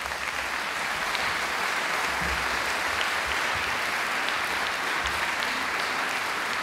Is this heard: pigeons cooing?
no